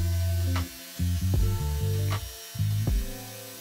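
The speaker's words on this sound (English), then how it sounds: "I'm using a drum sander to get them flat" Drum sander flattening wood slabs, a close, loud whirring grind that repeatedly drops and resumes in short passes, pitch dipping as the wood loads the drum.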